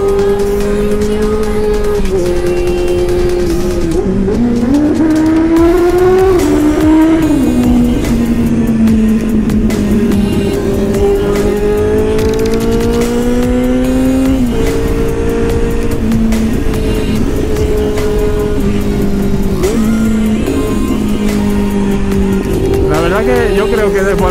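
Motorcycle with an SC-Project exhaust bought from AliExpress, riding a mountain road toward Castell de Ferro, its loud near engine note rising and falling through gear changes and throttle blips, with a rider talking over it.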